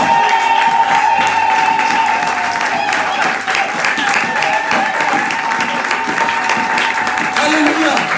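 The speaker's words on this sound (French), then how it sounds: "Est-ce qu'on peut acclamer plus fort?" A church congregation at a Sunday service claps and cheers loudly in a sustained, dense roar. Music tones run beneath it and voices are mixed in throughout.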